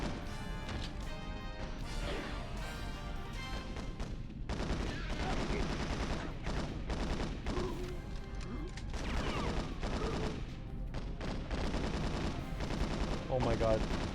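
Rapid video game gunfire with heavy recoil, loud clustered shots and automatic bursts crashing through the clip, with thuds and impacts between volleys.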